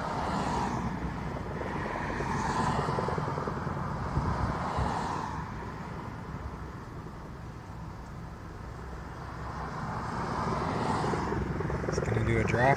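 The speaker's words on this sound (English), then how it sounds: "There's the fire copter." Firefighting helicopter flying over the Soberanes wildfire near Big Sur, a steady broadband rotor and engine rumble that swells and fades slightly across the clip, with voices talking over it.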